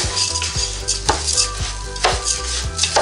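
Washed, dried jeerakasala rice for a Thalassery chicken dum biryani is dry-fried in a pan, giving repeated scraping stirs, metallic clinks and a light sizzle, close and clear with no talking.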